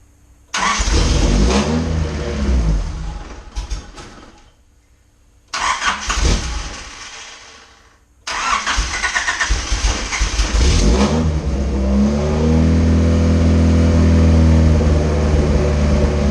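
A third-generation Honda Prelude engine cranks and catches in a few loud attempts, then starts and settles into a steady close idle with a low rumbling hum.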